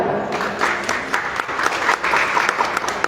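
Audience applause greets a guest at a book discussion held at a ministry, with steady, dense clapping from a nearby crowd throughout and no talk over it.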